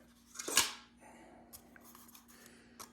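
A single sharp snip of scissors slicing through a thin aluminum can, with a brief crinkly rasp, followed by quiet handling noises and faint clicks.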